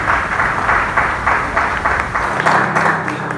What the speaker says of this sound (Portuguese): Aplauda, Senhor, em nome de Jesus.